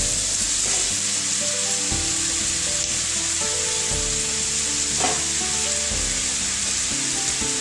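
Onion, garlic, tomato and boiled mutton fry together in a pan, giving a continuous loud sizzle with repeated scraping stirs and clinks of the spoon throughout.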